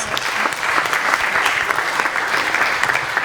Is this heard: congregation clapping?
yes